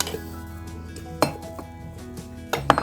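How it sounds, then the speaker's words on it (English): Metal knife scraping and clinking around the inside edge of a greased pork pie tin, a few sharp metallic taps and scrapes spaced apart, close and fairly quiet. "I've had to use a knife and go all the way around the sides as best I can"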